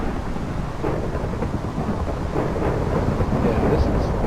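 Rain pours steadily through a Minecraft thunderstorm in the Magic Farm 2 modpack, a loud, unbroken hiss layered with deep rumbling thunder that swells slightly toward the end.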